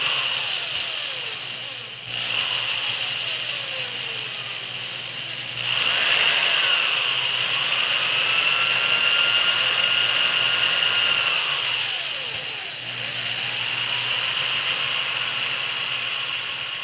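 An electric drill whirs loudly while spinning floral design material for a holiday arrangement, its motor pitch sliding down and up through several spin-downs and restarts, with a steady high whine between.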